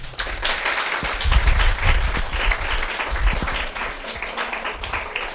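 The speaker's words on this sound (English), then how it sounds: "Then give them a big hand." A lecture audience gives a hearty round of applause, many hands clapping at close range in an uneven, rolling patter with some louder thumps, continuing throughout with no talk over it.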